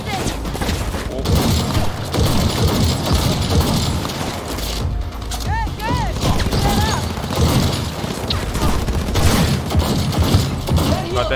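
Gunfire in the video game Cyberpunk 2077 rattles almost nonstop as a dense, loud barrage, mixed with mechanical clanks and a few whistling tones.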